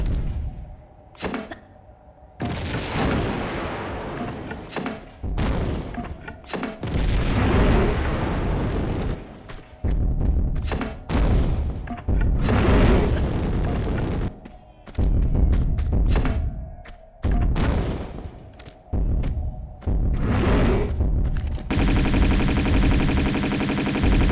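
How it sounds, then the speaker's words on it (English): Repeated grenade launcher blasts in the game Tomb Raider 2 Remastered, a string of loud, booming explosions arriving in quick irregular bursts with brief gaps, close and dominant with no talk over them. "what the fuck is this noise from my grenade launcher? Why is it so weak?"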